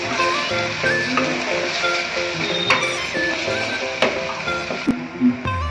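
Mutton curry masala with garam masala, chilli powder and salt being stirred in a pan, a soft steady sizzle with scraping and occasional metallic clinks of the spoon, accompanied by background music.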